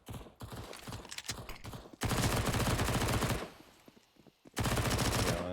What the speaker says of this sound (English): LNG spamming through that smoke with the MP9.